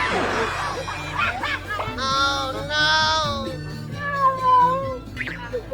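A cat meows several times in drawn-out, wavering cries, close by, with a few short breathy sounds between them.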